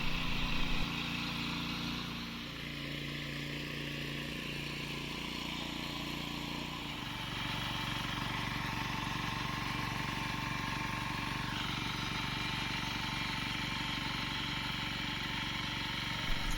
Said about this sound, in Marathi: आमचा ट्रॅक्टरवाला पोचलाय शेतीमध्ये